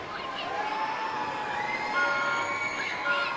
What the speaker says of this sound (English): I can hear the crowd. They are getting excited.